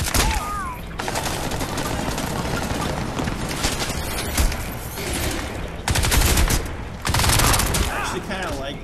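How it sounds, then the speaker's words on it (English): Rapid bursts of automatic gunfire from the Feline weapon in Crysis 2, dense and loud up close, in sustained volleys broken by short pauses, with faint talk mixed in. "This weapon, it's called the Feline."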